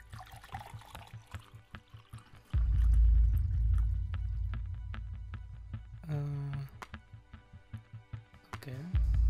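Drinking water is poured out for a visitor indoors: a few seconds of steady splashing and trickling that rises suddenly, then ends, followed by brief small clinks and movement sounds.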